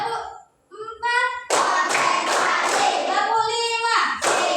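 A class of children claps hands in a counted pattern, a few single claps with voices counting between them, then a run of rapid, loud clapping bursts.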